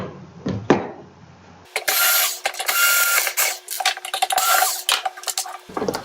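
Small screw being backed out inside a B4 Time handpunch time clock, a run of dense mechanical clicking and rattling close up, with a few brief knocks at the start.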